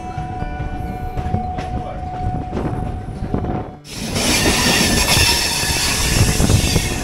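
A Kolkata–Digha special passenger train rumbles along loudly and steadily, with wheel squeal and rail noise; the sound swells into a fuller, louder roar about halfway through as the train passes beneath an overhead main line.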